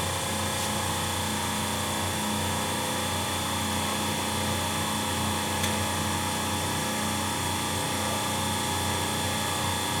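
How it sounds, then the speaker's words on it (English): A Semitool 270-F spin rinse dryer's brush motor runs steadily at about 1800 RPM, giving a smooth, continuous mechanical whir and broadband hum at constant loudness with no talking. "The brush motor ramps up."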